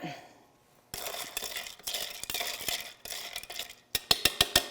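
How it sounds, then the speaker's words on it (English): Smoked tomato broth mix stirred for a Bloody Mary: a few seconds of steady scraping swirls, then a quick run of sharp, bright clinks against the glass at the end, close and moderately loud. "And now we can stir that up a little bit."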